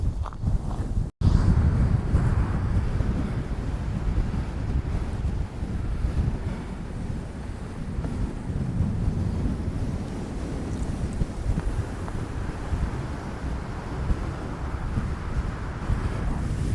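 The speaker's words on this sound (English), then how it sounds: "It's a bit breezy." Strong wind gusts across the microphone on the South Devon coast path, a continuous loud buffeting roar that surges and eases for the whole stretch, with sea-like rushing underneath and no voices.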